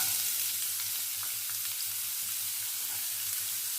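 Onion sizzles as it fries in a small amount of oil, a steady close-up crackle with faint stirring and no voices.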